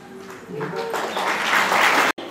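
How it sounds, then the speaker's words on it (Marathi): An audience breaks into applause at a felicitation during a Bharatanatyam dance program; the clapping swells from light to a dense, loud, sustained roar, with a voice heard briefly at the start and a sharp cutoff near the end. "जोरदार टाळ्या वाजवायच्या सर्वांनी"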